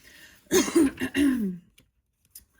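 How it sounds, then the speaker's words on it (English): A woman clears her throat in a few harsh, gravelly bursts, close and fairly loud, followed by near silence with a faint click. "Excuse me. Clear my throat."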